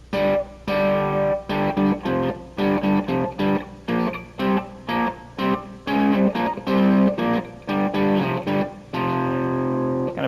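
Fender Stratocaster electric guitar with heavy distortion, chords strummed in short, choppy bursts separated by brief gaps, loud and close with no talking.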